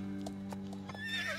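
Horse neighing in a stable, a short whinny with bright harmonic tones and a few faint hoof knocks, fairly quiet and heard alone.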